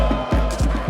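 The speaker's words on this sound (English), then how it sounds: "Backed by a raucous home crowd" A raucous home crowd roars through a soccer quarterfinal first-leg match just after kickoff, a dense, loud wall of cheering with a commentator's voice rising over it.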